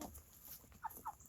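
Backyard chickens give two short clucks, faint and somewhat distant, over a quiet outdoor background with no talk.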